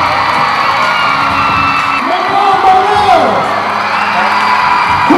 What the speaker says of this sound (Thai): ขอเสียงปรบมือให้กับคุณ